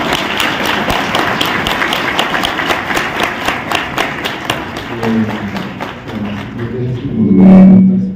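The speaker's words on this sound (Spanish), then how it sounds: "un aplauso para Vera de Fuerza" An audience at a forum on governance and democracy claps in a sustained burst of dense, even applause, thinning out near the end as a voice begins to speak.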